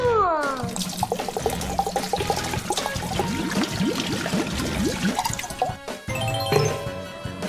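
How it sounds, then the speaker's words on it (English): Water runs from a tap into a container holding marbles, the pitch rising as it fills with splashing and dripping up close, then it stops briefly and starts again. "Let's fill it with water."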